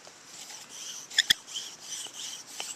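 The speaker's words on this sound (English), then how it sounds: "You can listen to the sound that the spindle's making to help you with this one." A loosely tensioned bow drill spindle turning in the bow makes a soft, uneven rubbing and rasping, with a couple of sharp clicks midway and faint scratchy patter throughout, close and quiet.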